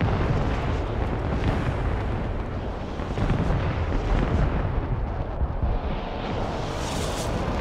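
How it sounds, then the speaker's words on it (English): Continuous rumbling artillery barrage in the strategy game Broken Arrow, a dense roll of distant explosions that stays loud and steady, with no talk. "Here comes the artillery on that charge."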